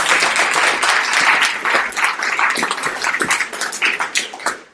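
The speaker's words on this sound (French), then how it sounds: "Je crois que vous pouvez, sous vos applaudissements." Audience applause at the 2017 Diderot prize award ceremony, a steady dense wash of clapping from a crowd that holds for several seconds with slight swells and no talk over it.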